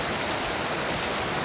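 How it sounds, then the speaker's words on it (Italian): Heavy, violent rain pours down in a sudden shower in Vietnam, making a dense, even roar that stays loud and unbroken throughout. "qui appena da un accenno di pioggia, magari dura poco, però è bella violenta"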